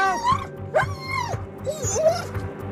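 A police dog barks and yelps in short, excited bursts during a police entry into a house, loud and close, while an officer shouts over it.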